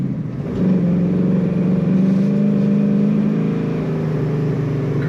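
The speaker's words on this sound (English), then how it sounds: "This car doesn't lean too much in the corners, which you want it to stay nice and flat." A 1966 Chevrolet Chevelle two-door hardtop carries a steady, mid-pitched engine drone with a slight rise as it pulls through corners, heard close and continuous with no talking.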